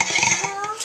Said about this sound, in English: I'm gonna do a swirl in the pot